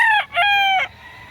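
A single rooster about five months old crows nearby in Lipa City, Batangas, loud and clear, a broken cock-a-doodle-doo call with a short pause partway through.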